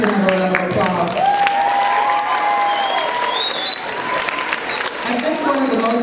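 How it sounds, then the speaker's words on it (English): Audience applause at a school mock-government session, steady clapping with some cheering and whoops, while voices and exclamations rise over the clapping throughout. "Let's give Mr. Laesch a round of applause"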